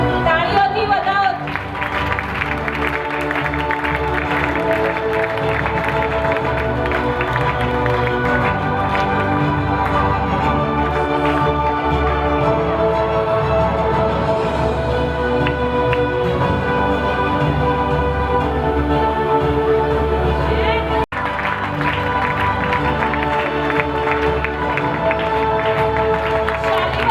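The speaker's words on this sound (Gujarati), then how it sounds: "તાળીઓથી વધાવો." A Jain congregation in Malad applauds at a staged play, sustained loud clapping and crowd noise mixed with music, running almost without pause through the whole stretch.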